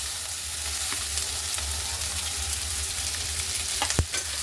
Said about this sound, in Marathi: आता छान कांदा लाल कलर येईपर्यंत तळून घ्यायचा.